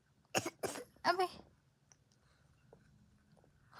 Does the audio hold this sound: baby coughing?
yes